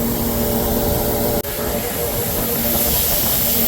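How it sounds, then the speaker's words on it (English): A heavy 724 tractor engine drones steadily while pulling a loaded trailer of bags, a loud continuous hum with a brief dropout partway through and no talk. "Now the 724 is a pretty heavy tractor, and it does have trouble pulling it back."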